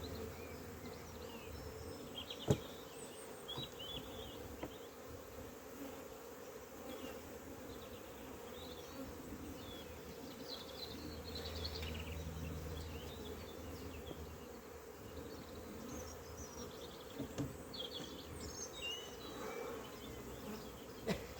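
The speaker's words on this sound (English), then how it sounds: "Can you see all the bees buzzing around?" Honey bees buzz steadily around an open hive, a dense, continuous drone close by with a few louder bees passing near, and no talking.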